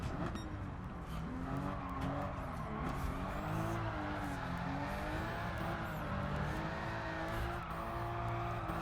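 A car in the video game Gran Turismo 7 drifts with continuous tire squeal and a droning, revving engine, loud and close, the pitch wavering as the slide is held.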